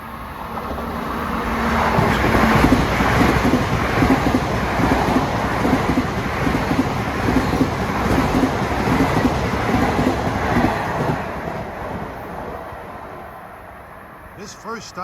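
Long Island Rail Road train 1992 bound for Ronkonkoma rumbles past on a triple-track line at dusk, a steady loud roar with rhythmic wheel clatter building and fading over about twelve seconds, wind buffeting the microphone.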